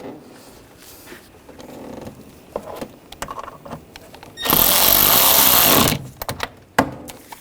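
Screws on the throttle body air box of a 2009-2017 Volkswagen Tiguan 2.0L four-cylinder are run down by a power driver, one loud buzzing burst of about a second and a half among scattered clicks and handling knocks.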